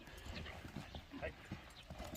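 A horse's hooves clatter on concrete in a quick, rhythmic clip-clop close by, with people talking over the steps.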